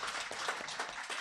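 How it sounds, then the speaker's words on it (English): Audience applause at a national policy dialogue, a steady dense patter of many hands clapping at close range, filling the short moment without any voices. "a round of applause"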